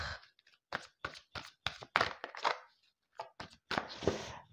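Cards shuffled by hand for a tarot-style reading, a series of close, quiet riffles and soft slaps in uneven bursts with brief pauses between.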